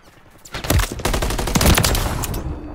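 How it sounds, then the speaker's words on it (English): Gunfire from a sniper rifle in Modern Warfare 3 team deathmatch, a loud burst of several sharp shots followed by sustained dense shooting and battle noise, with no speech. "this motherfucker just no-scoping with a sniper rifle"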